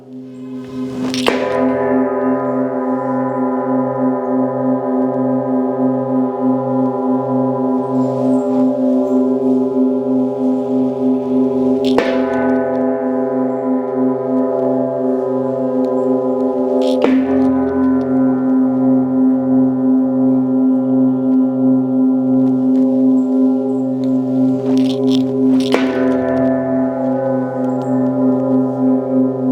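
A singing bowl struck several times, each strike blooming into a long, steady ringing tone that sustains and overlaps without pause.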